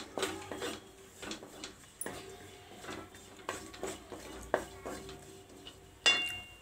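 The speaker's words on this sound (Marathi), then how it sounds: "थोडीशी परतून घेऊ बारीक गॅसवरच परतायचं हे" Karanji filling is stirred and sautéed in a pan over a low flame, giving quiet, intermittent scraping and clinking of the spoon against the pan, close up and soft, with a faint voice in the background.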